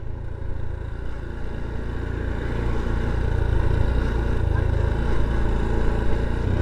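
A 2023 Honda Trail 125 motorcycle riding at about 20 mph, its small engine droning steadily with constant road and wind rumble; the pitch and level rise slightly toward the end.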